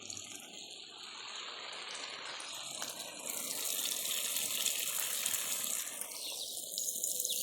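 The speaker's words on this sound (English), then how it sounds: "I'm watering it and none of the water is just pooling around at the top." Water from a garden hose pours and soaks into cottage garden soil, a steady soft gushing hiss that swells slightly partway through, fairly faint with no voices.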